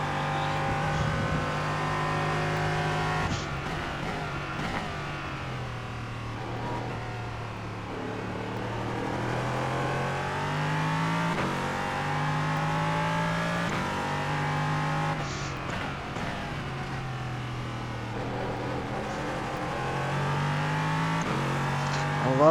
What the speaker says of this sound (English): I love the sounds that come out of this car.